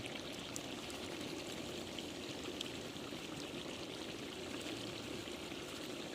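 Water being poured during a cooking party, a faint, steady pouring and streaming wash that runs evenly throughout with no talk over it.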